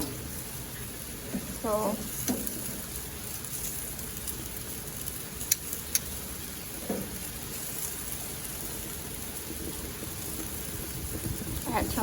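Steady rain falls on an outdoor patio beside a grill on a windy evening, a dense even hiss holding throughout with a few brief voice fragments and small knocks over it.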